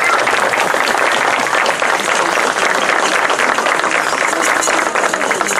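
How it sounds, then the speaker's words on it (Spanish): At a Christmas novena in a residential club in Ibagué, a crowd gives loud, sustained applause for the family attending, dense and continuous clapping close by that keeps an even level for the whole stretch. "quiero pedirles un fuerte aplauso a mi familia que me acompaña el día de hoy"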